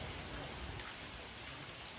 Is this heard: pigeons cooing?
no